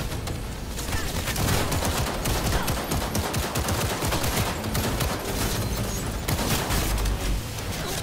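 Sustained gunfire fills the Cyberpunk 2077 video game, a dense, loud, continuous barrage of rapid shots and impacts lasting throughout.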